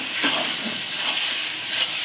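Potatoes and prawns hit hot oil in a pan, giving a steady broadband hiss with a few soft bumps, fairly quiet and continuous over a couple of seconds.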